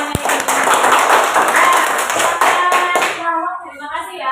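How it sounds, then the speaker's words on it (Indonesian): Primary school children in a fourth-grade classroom clap for group 2, a dense burst of many hands, loud and close, lasting about three seconds before stopping abruptly, with a few voices mixed in. "Mana tepuk tangannya ini?"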